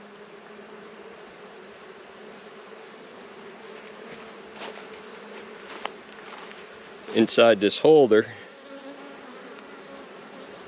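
A low, steady buzz of many honeybees hums around an open hive throughout, joined by a brief louder burst of close buzzing near the end, with a voice speaking softly.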